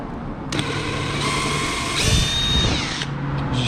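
A power tool backs screws out of metal plates on a tri-toon pontoon boat, one sustained whine that rises in pitch partway through and then cuts off, close and loud.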